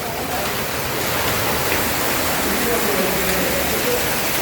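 Hail comes down on cars outside a panchayat office in Puthur, making a constant rushing clatter like heavy rain on metal. It stays loud and even from start to end.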